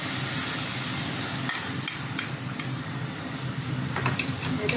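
Soaked mixed spice paste going into a pan of frying stingray pieces, giving a steady close sizzle with a few soft stirring clicks throughout.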